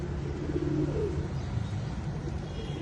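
Red and yellow Danish fancy pigeons, a breeder pair, coo softly in a low, steady murmur over a constant background hum, up close with no talking.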